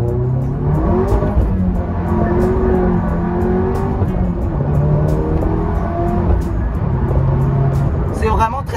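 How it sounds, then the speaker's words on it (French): A Seat Leon Cupra runs with a loud, close engine drone, broken by scattered sharp exhaust pops and bangs, while someone talks over it. "Avez-vous entendu ce petit pop and bang"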